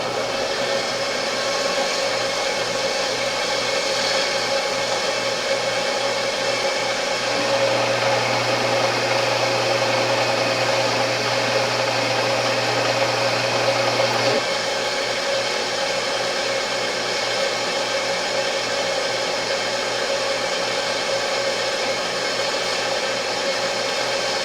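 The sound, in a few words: CNC machine running a cutting program, cutting chips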